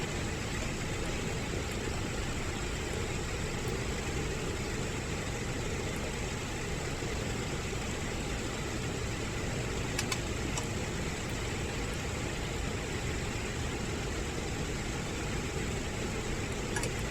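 Number 1 piston engine of a PMDG DC-6B airliner runs in Microsoft Flight Simulator 2020, giving a constant, even drone that holds steady throughout with no voices.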